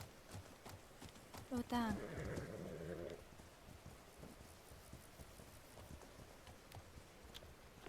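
Horse hooves clip-clop in The Legend of Khiimori, a horse-riding video game, in a short quick burst of steps partly under a person talking, then faint patter continues in the background.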